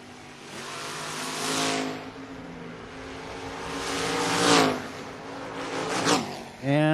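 Drag race cars, a Mustang against a third-gen Camaro, roaring off the line at the track with rising engine revs heard at a distance under an announcer's voice.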